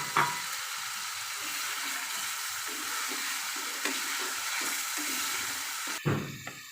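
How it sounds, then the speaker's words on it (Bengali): Eggs go into a pan of well-cooked spiced masala for egg bhuna, with a steady soft sizzle throughout, a few light knocks of stirring, and a sharper clatter near the end. "মশলাটা ভালো মতো কষানো হয়ে গিয়েছে, এখন ডিমগুলো অ্যাড করে দিব।"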